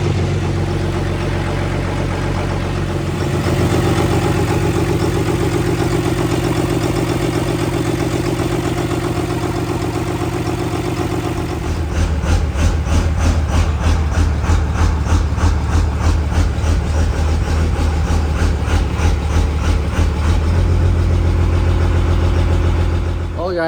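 A diesel pickup truck fitted with Scheid Stage 2 Monster Mike injectors runs close by, a deep steady idle that shifts partway through into a rougher, pulsing chug, loud throughout with no voices over it.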